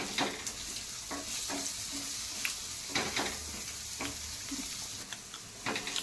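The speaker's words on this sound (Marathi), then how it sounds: "हे खमंग असे भाजून घ्यायचे।" Gram flour vadis roast in a pan with steady, low sizzling and soft patter throughout, broken by several light scraping stir strokes at irregular intervals.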